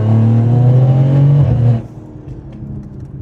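A turbocharged BMW M240i with a top-mount turbo roars under load at a drag-racing event, a loud, strong engine drone that cuts off sharply partway through, leaving quieter rumbling and distant mechanical noise behind.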